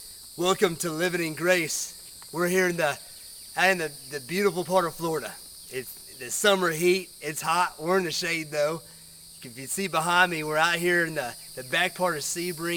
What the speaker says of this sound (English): you can probably hear the crickets in the background.